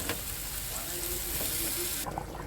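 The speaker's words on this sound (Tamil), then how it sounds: "குழம்பு நல்லா கொதிக்குது சிக்கன் நல்லா வெந்துடுச்சு" A pot of chicken curry bubbles and simmers steadily with a soft, continuous hiss of boiling liquid, close up, with no talk.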